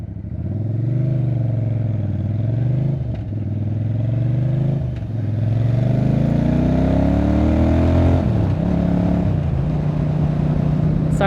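A motorcycle running continuously under a rider, its engine note rising and falling through throttle changes, loud and close, with traffic and a car passing nearby.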